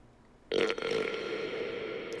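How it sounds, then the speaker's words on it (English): A single loud, close burp bursts out abruptly and drags on for more than a second, rough and throaty, with no talking over it. "oh god, I got a burp"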